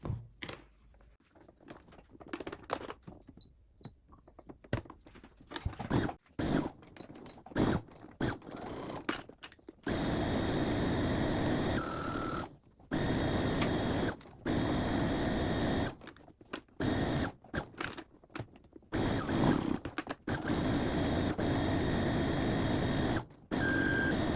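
Sewing machine stitching a seam all the way around a fabric bunny gift pouch, running in long steady bursts with short pauses between passes, close and fairly loud with no talking.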